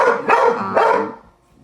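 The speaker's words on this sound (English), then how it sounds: "Sorry about my dogs barking." Several dogs barking close by in two loud, overlapping bursts, with no talking, fading out at the end.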